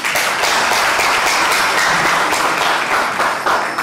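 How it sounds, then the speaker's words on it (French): Sustained applause from guests at a civil wedding ceremony at a town hall, a dense steady wash of many hands clapping at full volume with no talk over it. "Applaudissez pour elle, s'il vous plaît."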